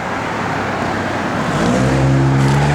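A 1965 Buick Riviera on 15-inch Kumho tires driving on the road: steady engine and road noise that swells as the engine pulls harder partway through, heard from close by with no talking.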